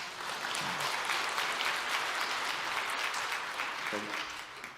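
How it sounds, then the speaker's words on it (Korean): A church congregation applauds as the pastor appears, with a steady wash of clapping throughout and a few brief voices underneath. "박수하겠습니다."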